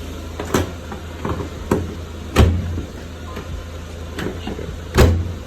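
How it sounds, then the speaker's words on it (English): The hood of a Mk4 GLI fitted with a CTS turbo intake kit is closed: scattered clicks and two solid thuds over a steady engine hum. "let me just close the hood"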